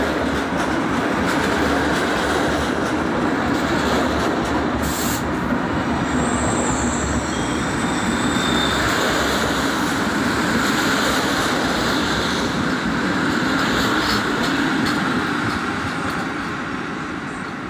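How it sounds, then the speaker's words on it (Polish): An Intercity Chełmoński train from Świnoujście to Kraków Główny, hauled by EP07 electric locomotive EP07375, rolls into a Polish railway station: steady rumble and rhythmic clickety-clack of wheels filling the platform, a brief brake and wheel squeal partway through, loud and close. "Wjeżdża pociąg Intercity Chełmoński relacji Świnoujście Kraków Główny."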